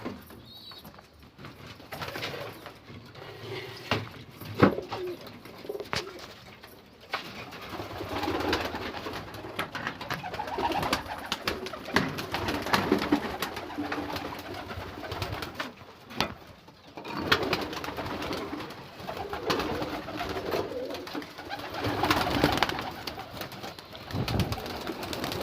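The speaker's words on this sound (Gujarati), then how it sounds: "તો ચાલો મિત્રો આપણે પહેલાં કબૂતર ખોલી નાખીએ।" Pigeons cooing nearby, repeated soft throaty coos over several seconds with light rustling and occasional wing flutters.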